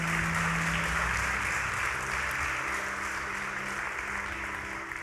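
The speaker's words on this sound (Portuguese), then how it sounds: "Pode aplaudir a Jesus" Steady applause from a church congregation praising Jesus, a thick continuous wash of clapping that holds evenly and thins slightly toward the end, with some low voices mixed in.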